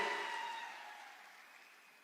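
A crowd at a political rally applauds for Dada, heard as a faint, fading wash of clapping that tails off over two seconds.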